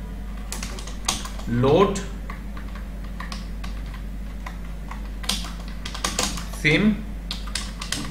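Quick bursts of clacking computer keyboard keystrokes as code is typed, in clusters with pauses between them, close and clear under someone speaking.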